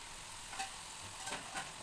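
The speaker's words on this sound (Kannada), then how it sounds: "ಒಂದೊಂದೇ ಪೂರಿಗಳನ್ನ ಹಾಕ್ಕೊಂಡು ಕರಿಯೋಣ." Puris deep-frying one at a time in hot oil give off a steady, faint sizzle with a few soft bubbling bursts and no talking.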